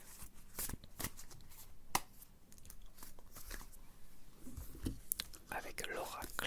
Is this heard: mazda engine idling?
no